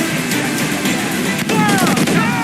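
Ship cannons firing during a naval battle in Assassin's Creed Black Flag, a dense barrage of booming shots over a constant roar of sea and battle noise, loud and close.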